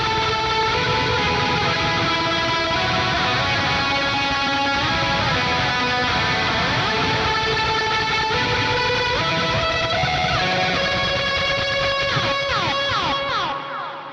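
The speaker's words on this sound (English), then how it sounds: "I've used the drive and delay in a tremolo lead preset" A heavily driven electric guitar lead played through an Archetype Plini X tremolo lead preset with drive and delay rings out continuously, dense and sustained with long trailing notes and no talking.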